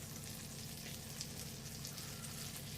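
Butter sizzles steadily in a pan over medium heat, a close, dense frying hiss that holds even throughout.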